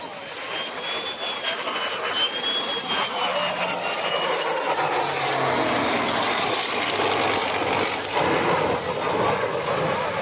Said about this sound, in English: The jet's got to throttle back, and the prop plane is going to full bore.